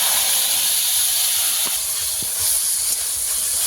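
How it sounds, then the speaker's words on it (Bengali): Ginger paste and tomato paste hit hot oil in a pan for a river prawn dish, a loud, steady, hissing sizzle that fills the whole stretch without pause, close by and with no talking. "তেলের মধ্যে আমি আদা বাটা দিয়ে দেব আর টমেটো পেস্ট দিয়ে দেব"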